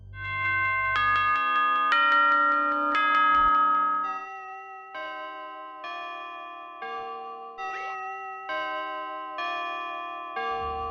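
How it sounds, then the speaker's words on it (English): A grandfather clock in Five Nights at Freddy's chimes a steady bell-like melody, one clear tone after another, ringing alone at moderate loudness with no voices. "A grandfather clock, chiming the same song every time"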